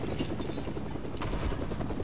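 Helicopter in a video game, its rotor chop forming a rapid, continuous low thumping at a steady, fairly loud level, with no voices over it.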